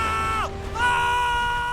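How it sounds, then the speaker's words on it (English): A single person screams loudly up close, a sharp voiced cry that bends downward and then rises again into a sustained high wail, with no other voices. "and I scream"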